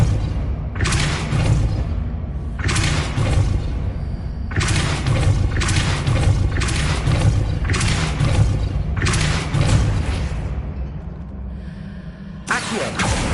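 Repeated Depulso force-push spell blasts in Hogwarts Legacy, five or six loud bursts with whooshing, crashing impacts spaced a second or two apart over a constant low rumble of game ambience.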